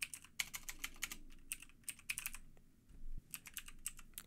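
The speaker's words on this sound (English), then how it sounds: "we type in the IP address of our server" Quick bursts of keystrokes on a computer keyboard, close and fairly quiet, typed in irregular clusters with brief pauses between them.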